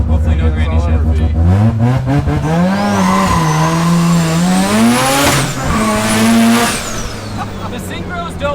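A Datsun accelerating hard in first gear, its engine pitch climbing in rising harmonics, then a quick, aggressive 1-2 shift followed by renewed revving. The engine is loud and close, with faint tire or whine tones above it.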